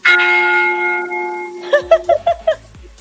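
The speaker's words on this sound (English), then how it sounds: "So many bells, honestly." Church bells ring within music: a sustained tolling tone fades, followed by a quick series of five bright bell strikes over a low beat.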